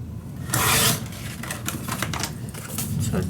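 Paper is cut with repeated rasping strokes for a tabletop storage unit craft. A louder cut comes early, followed by a run of shorter scratchy snips close by, with no talking.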